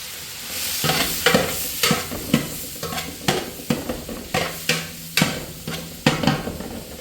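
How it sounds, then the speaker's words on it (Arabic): Sliced champignon mushrooms fry in hot oil while a utensil stirs them, giving repeated close, sharp scraping strokes against the pan over a steady sizzle. "ايوا وها رمي فيها الشامبينيون."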